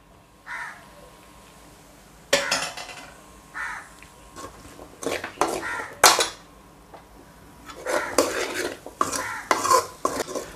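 Mutton curry masala with potato and drumstick pieces being sautéed in oil, heard as intermittent scraping and stirring strokes of a spoon against a pan, close by, with a faint sizzle between strokes.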